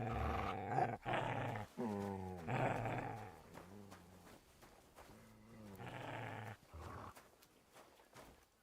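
A dog growls and snarls in several drawn-out bursts, close and fairly loud, the rough throaty rumbles rising and falling with short breaks between them.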